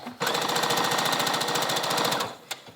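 A sewing machine stitches a sleeveless vest with a rounded collar in one steady, rapid run of even needle strokes lasting about two seconds, then stops, followed by a single click.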